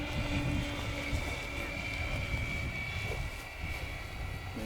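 A radio-controlled LX Super B-25 Mitchell WWII bomber model with a 2000mm wingspan comes in to land, its motors giving a steady, fairly loud droning whine that dips slightly toward the end.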